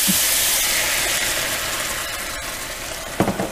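Steady, loud hiss of steam from a pan of golden beets steaming in water, continuous throughout, with a couple of small clinks near the end.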